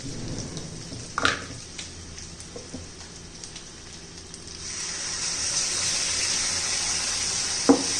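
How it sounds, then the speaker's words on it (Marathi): Ground wet masala paste with turmeric sizzles in a hot pan for a spicy double bean curry, a steady hiss that swells louder halfway through, with a couple of sharp utensil clinks. "हे छान परतून घेऊया आपण दोन एक मिनटं तरी चांगलं परतून घ्यायचं आहे"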